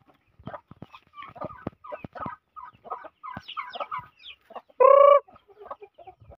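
Chickens cluck busily while being fed at a house, a run of short close clucks with one louder drawn-out call near the end.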